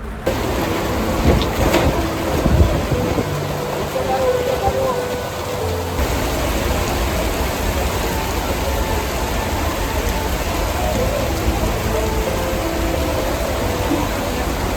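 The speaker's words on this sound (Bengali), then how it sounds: "বৃষ্টি আসছে" Rain falls by the Padma river at Mawa Ghat in Bangladesh, a dense, steady wash of downpour that fills the whole stretch evenly and loudly.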